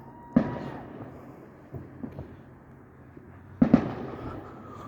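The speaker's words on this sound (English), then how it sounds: "There's a lot of fireworks. Some of them are very quiet, some of them are really loud." Fourth of July fireworks go off in the distance: two sharp booms, one near the start and a doubled one later, with faint pops and crackles between over a quiet night background.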